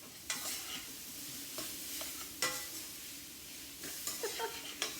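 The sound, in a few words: stir-frying julienned vegetables in oil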